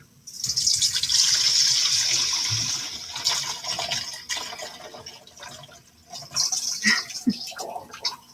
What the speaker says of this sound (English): just dump the water right out of there, and the screen will hold the seeds in and let the water drain out